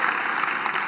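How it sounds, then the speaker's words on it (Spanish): Audience applause for Santiago Niño Becerra at a business and economy conference, a brief steady wash of clapping from a seated crowd with no talk over it. "Un aplauso para Santiago Niño Becerra."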